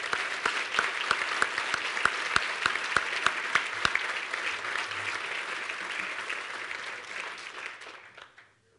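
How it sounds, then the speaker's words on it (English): An audience at an ethics essay award dinner applauds the award winners, with crisp individual claps standing out near the front over a dense wash of clapping that gradually fades out toward the end. "One last round of applause for all the award winners."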